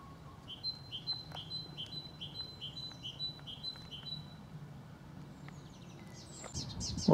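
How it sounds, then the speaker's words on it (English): A great tit sings in the background on a countryside walk near Guildford, repeating a rhythmic two-note phrase about ten times at moderate distance, with faint chirps from other birds and a louder rustle at the end. "Great tit there in the background."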